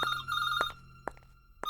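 A telephone rings for an incoming call, a close, clear electronic trill repeating in short pulses with no voices over it.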